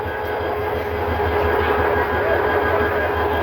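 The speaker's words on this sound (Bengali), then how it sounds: "ট্রেনটি ভৈরব বাজার জংশনে এসে প্রবেশ করেছে।" A Titas Commuter train pulls into Bhairab Bazar junction with a steady, loud rumble of rolling wagons and low engine drone that holds evenly throughout, with no voices.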